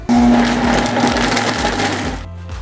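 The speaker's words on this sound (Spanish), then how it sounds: "ahora sí vamos a moler los mezquites" A blender grinds mesquite pods with a cup of water, a loud whirring motor with a rough churning texture that runs steadily before dipping near the end.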